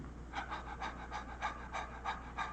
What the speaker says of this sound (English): Now, there's ordinary breath,